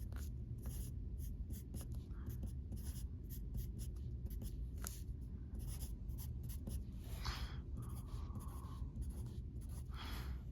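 A pen or pencil scratching on paper while six cups are sketched for a math model, with repeated short, close strokes and scribbles in quick bursts against a quiet room background.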